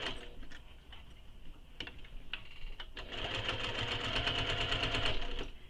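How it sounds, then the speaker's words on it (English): A sewing machine back stitching through the bulk of a fabric bag, starting with brief taps and then running in a steady, close, rapid chatter for the last few seconds. "So back stitch first, and make sure everything is staying flat under your needle"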